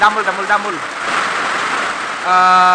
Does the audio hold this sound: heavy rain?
yes